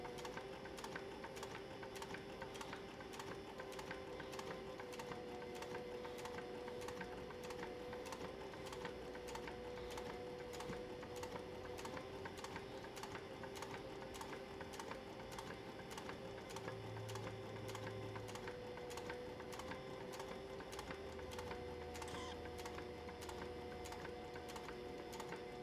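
A sewing machine stitches down a purse zipper with a quiet, fast, even mechanical ticking that runs continuously, with no voices.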